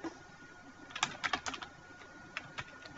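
Keystrokes on a computer keyboard while entering a database query, a few scattered taps followed by a quick burst of close, crisp clicks and then two more isolated presses, heard alone against quiet room noise.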